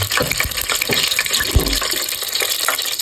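Mustard seeds dropped into hot oil sputter and pop in quick, irregular crackles against a bubbling hiss. The oil is being tempered for Gujarati muthiya. No one talks.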